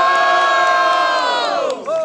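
A packed audience at a Brazilian student rap battle roars in a sustained, loud wave of cheering and shouting that holds steady before dipping briefly and rising again near the end.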